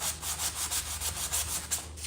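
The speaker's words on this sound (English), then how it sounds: "I am sanding that off" Hand sanding painted wooden furniture, a quick rhythmic series of close, raspy rubbing strokes repeating back and forth with no talk.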